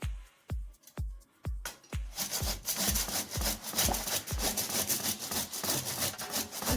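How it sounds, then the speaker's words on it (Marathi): Pumpkin is grated on the fine side of a hand grater, first as slow separate scraping strokes, then as faster continuous rasping at close range with no talking. "तर आपण ह्या बारीक साईडनं किसून घेऊ."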